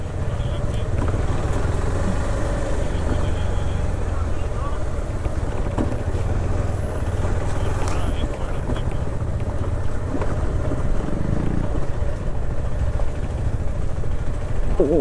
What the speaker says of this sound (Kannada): ಫುಲ್ಲು ಗಾಳಿ